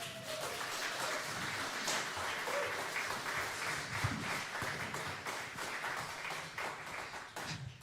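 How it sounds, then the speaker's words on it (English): Audience applause at a piano session in a Leeds bar, a dense, steady patter of many hands clapping for several seconds, fairly close, slightly thinning toward the end. "Please give Sally a round of applause."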